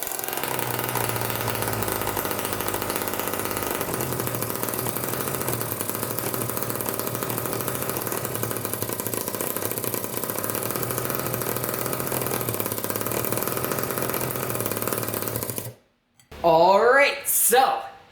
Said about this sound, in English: The compressor to internal combustion engine conversion is a success, definitely.